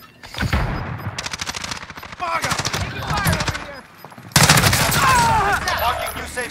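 Rapid automatic gunfire from Call of Duty Warzone, loud and close, arriving in several dense bursts of rattling shots with short gaps between them and a heavier burst near the end.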